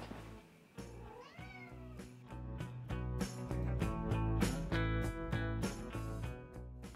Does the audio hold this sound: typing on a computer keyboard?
no